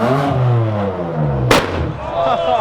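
A loud car at Bimmerfest rumbles and revs, then lets out a single sharp exhaust backfire crack midway, close and explosive above the engine drone.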